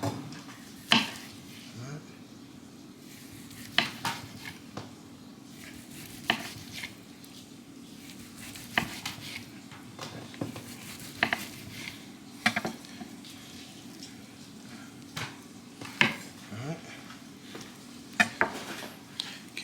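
A knife works through a juicy, salt-brined smoked turkey on a cutting board, giving scattered soft cuts and sharp knocks of blade on board over a quiet kitchen background.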